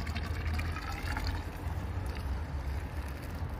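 Screen washer fluid is poured into a car's washer reservoir, a steady continuous gurgling splash of liquid filling a container, close and even throughout with no speech.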